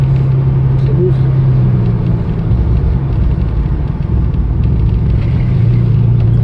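A DeLorean, the Back to the Future car with a three-speed automatic gearbox, rumbles steadily while driving through town, a loud low engine and road drone with a voice talking over it.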